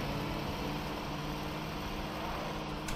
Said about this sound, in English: Listen just to the snow car engine.